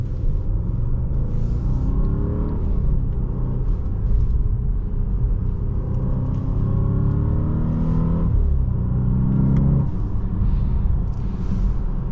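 A 2015 Audi S8 4.0T Quattro's V8 engine revs up and accelerates from inside the cabin, a loud deep rumble rising in pitch through several gear changes.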